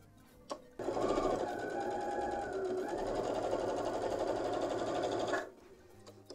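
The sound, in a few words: sewing machine stitching a quarter-inch quilt seam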